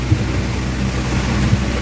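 Heavy rain and rumbling thunder heard from inside a moving car during a storm, a steady dense wash with low booming swells, close and fairly loud, no talking.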